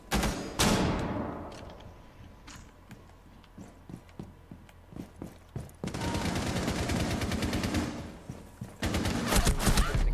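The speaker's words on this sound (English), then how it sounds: "Stun grenade out." Rainbow Six Siege gameplay in which a stun grenade goes off with a sharp blast, followed by scattered gunshots and bursts of rapid gunfire, loud and close at the start and again near the end.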